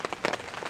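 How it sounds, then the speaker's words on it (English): Rain falls during a fishing session, a short burst of close patters and drops striking a surface in quick irregular taps. "The rain is really picking up"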